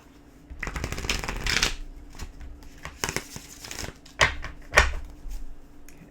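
Tarot cards being shuffled several times, with crisp riffling bursts and soft taps as the deck is squared, close and clear.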